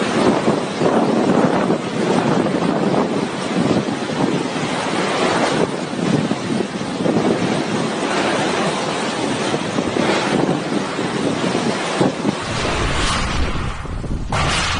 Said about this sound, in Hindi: हवाएं इतनी तेज है कि वो पूरी तरह से हिला दे रही है।